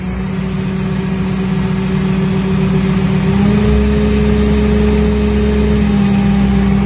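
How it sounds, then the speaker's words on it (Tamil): A JCB telehandler diesel engine running steadily while its boom is lowered, a loud continuous hum with a slight rise in pitch partway through. "பூம் இறக்கி டவுன் பண்ணிக்கிறோம்."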